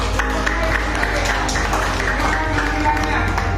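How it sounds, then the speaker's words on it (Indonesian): Students applaud together in a high school civics classroom, a continuous patter of clapping over a steady low hum and some crowd murmur. "Boleh kasih tepuk tangan."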